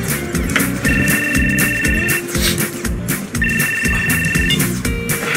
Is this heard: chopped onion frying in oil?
no